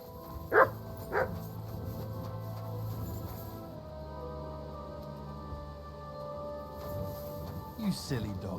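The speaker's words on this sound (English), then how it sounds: "You silly doggy." Dog in Kingdom Come Deliverance 2 gives two short, sharp barks near the start and a brief yip near the end, heard over steady game ambience and music.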